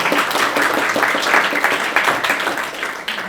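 Applause from an audience at an evening Christianity and Culture lecture as the college president comes up to welcome everyone, a dense, steady wash of many hands clapping that fills the room for several seconds.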